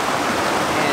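A river in the woods rushes in a steady, dense wash of flowing water that stays loud and continuous throughout.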